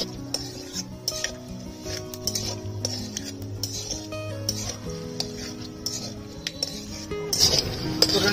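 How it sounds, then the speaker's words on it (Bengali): Whole garam masala of bay leaves, mace, cinnamon, cardamom and cloves fries in hot oil in a pan, with steady stirring scrapes and occasional clinks against the metal, a soft sizzle underneath and a brighter burst of sizzling near the end. "ফোড়নটা ভাজা ভাজা করে নিয়েছি"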